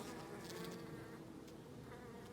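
Honeybees buzz continuously at close range, a dense droning hum with individual bees flitting by, fairly quiet and without speech.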